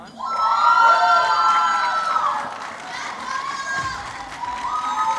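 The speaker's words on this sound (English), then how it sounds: "Dr. Khan has a great cheering section." A crowd at a white coat ceremony cheers loudly for a new doctor, with high-pitched whoops, shouts and yells rising at once, tapering a little and then swelling again, close and sustained throughout.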